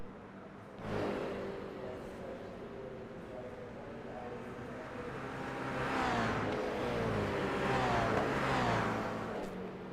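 Race cars crossing the finish line at Mount Panorama in a racing game, engines rising and sweeping past one after another with a revving roar that swells toward the end, a commentator talking over them.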